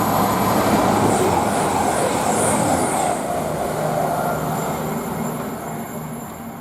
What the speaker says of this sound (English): the cross-country 170s actually going fast